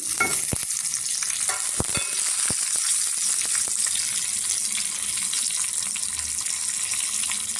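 Mustard seeds, chana dal, urad dal, cumin, fenugreek, curry leaves and garlic frying in hot oil make a loud, continuous close-up sizzle, dotted with sharp pops and crackles throughout.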